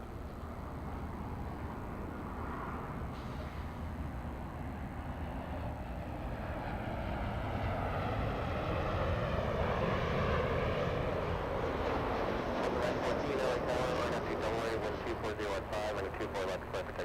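A Delta airliner landing on runway 24 right at LAX makes a continuous distant engine roar that swells in the middle and lingers, with a faint crackling rumble near the end.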